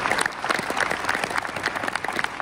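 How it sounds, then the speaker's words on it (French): An audience at a new-year ceremony for sports clubs in Aulnay-sous-Bois claps for the clubs in a brisk, moderately loud patter of many hands, with no voices over it. "j'aimerais qu'on applaudisse ces clubs."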